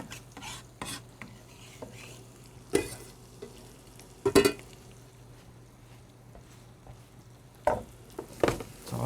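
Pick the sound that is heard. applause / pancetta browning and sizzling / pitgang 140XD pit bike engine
pancetta browning and sizzling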